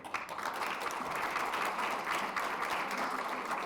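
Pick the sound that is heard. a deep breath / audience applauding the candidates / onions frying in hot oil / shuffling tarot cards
audience applauding the candidates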